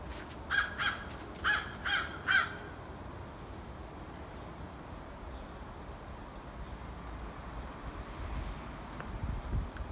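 Crows caw outdoors at about 5 a.m., four harsh calls in quick succession near the start, then only steady wind noise buffeting the microphone.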